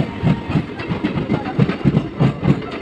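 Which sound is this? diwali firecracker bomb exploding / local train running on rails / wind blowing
local train running on rails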